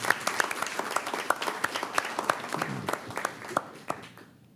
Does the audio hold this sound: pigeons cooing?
no